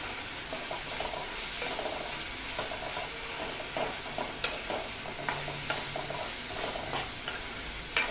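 A masoor dal fry tempering is sautéed in a pan, giving a soft continuous sizzle with intermittent light spatula strokes, close but fairly quiet, and no one speaks.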